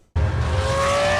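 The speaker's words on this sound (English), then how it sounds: "That is the sound of a first-gen Gallardo." A first-generation Lamborghini Gallardo V10 roars loudly and close from a sudden start, holding a sustained high-pitched engine note with a steady whine on top, no speech.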